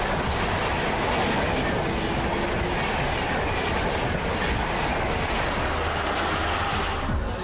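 The Swarna Jayanti Rajdhani Express from Ahmedabad runs toward Delhi railway station with a continuous loud rumble and faint clickety-clack of wheels, steady throughout with no voices.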